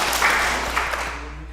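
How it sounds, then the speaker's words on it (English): Church congregation applauding at a Sunday service, a steady wash of clapping from many hands that holds for the whole moment and fades slightly toward the end. "If you say your name loud and clear,"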